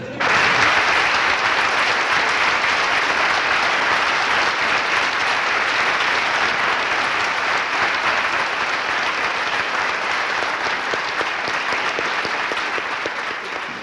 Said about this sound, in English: I'm sure that applause speaks for itself